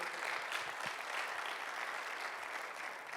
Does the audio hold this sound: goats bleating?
no